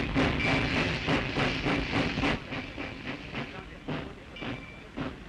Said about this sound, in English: Jammed train loads.